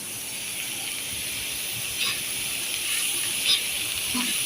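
Ground masala paste of garlic and salt hits a pan of cooking wild greens with a steady hiss and sizzle, and a few brief sputtering bursts rise above it.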